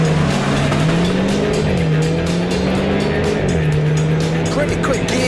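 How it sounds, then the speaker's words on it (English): Renault Clio RS hot hatch launching hard with launch control, engine roaring loud and close inside the cabin, pitch climbing and dropping through quick gear changes, with tire noise and someone talking over it. "launch control's on, hit the throttle"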